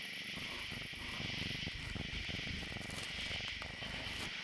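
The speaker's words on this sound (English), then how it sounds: "Listen to him purring." A cat's soft, steady purr with a faint rhythmic flutter, very quiet and close, over a constant hiss.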